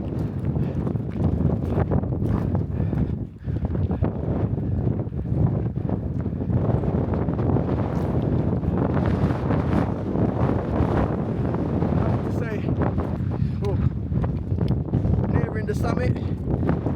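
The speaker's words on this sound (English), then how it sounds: "it's extremely windy now" Loud, constant wind buffeting the microphone in gusty roars on the Scafell Pike summit, with muffled voices faintly underneath.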